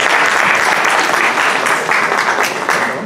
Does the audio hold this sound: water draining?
no